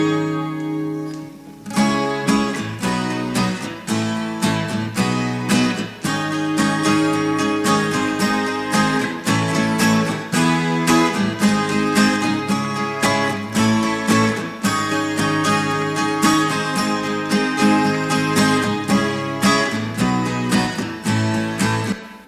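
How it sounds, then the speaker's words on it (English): Layered acoustic, nylon-string and Nashville guitars play together in a busy, continuous picking pattern from a one-man-band arrangement, full and steady for the whole stretch with no talking. "So basically all the guitars together sound like this."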